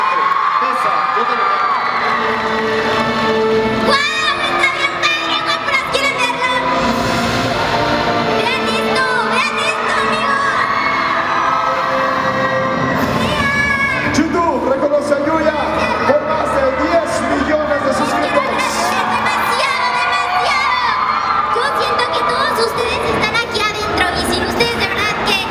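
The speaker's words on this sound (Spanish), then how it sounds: "Un gran aplauso, por favor," Crowd of fans at a live Youthering event for YouTuber Yuya, cheering, whooping and shouting continuously and densely for the whole stretch, with voices mixed through the roar.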